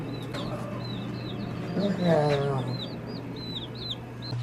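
Lots of high chick peeps from true blue hen chicks chirp continuously, overlapping, with a voice briefly speaking in the middle over a steady low hum.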